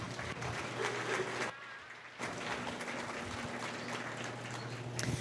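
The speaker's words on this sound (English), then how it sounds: "let's go ahead and give these Holstein exhibitors a big round of applause" Sustained applause from a crowd honoring Holstein exhibitors at a county dairy show, dense and steady, briefly dipping before resuming at full strength, with a low steady hum beneath.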